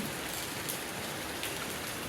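Heavy rain pours steadily, a dense, even hiss of drops striking surfaces that fills the air without pause and without any voices.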